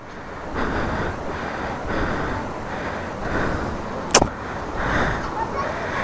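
A vehicle in first gear pushes through a rain-flooded road crossing on the way to Tungareshwar, with a continuous broad rushing wash of water and engine rumble swelling in slow surges and one brief sharp knock partway.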